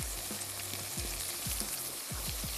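Cumin seeds crackle in hot oil in a pan, a dense nearby sizzle punctuated by several low thumps and stirring knocks.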